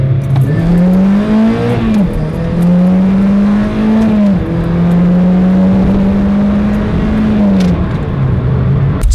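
A 2.5 Fury engine in a Miata revs hard and close, a loud continuous drone that rises and falls through several throttle swells.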